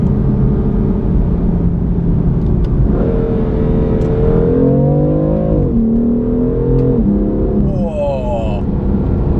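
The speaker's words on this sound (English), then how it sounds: "What are those gear shifts? They're pretty exceptional." A car engine revs hard, its pitch climbing and dropping sharply at each gear change, loud and close, with a steady rumble underneath.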